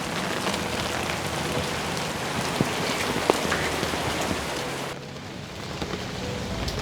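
Steady rain pours down in a dense hiss with scattered sharper drops ticking on surfaces, close and continuous throughout, with a slight change in tone near the end.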